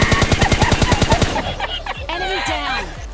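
Rapid automatic gunfire in the video game PUBG Lite fires about a dozen loud shots in a quick, even rhythm, then cuts off into fluttering, chirpy game sounds.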